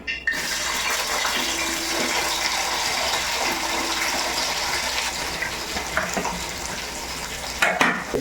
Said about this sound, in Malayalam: വെളിച്ചെണ്ണ നമുക്ക് തിളച്ച് വന്നിട്ടുണ്ട് അപ്പോൾ നമുക്ക് സവോളയും പച്ചമുളകും കൂടി തട്ടാം